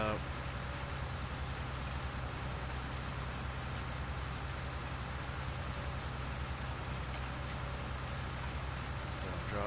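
Steady, dense rain in the Farming Simulator video game, set in Goldcrest Valley. It keeps up an even hiss throughout, with a low engine hum underneath.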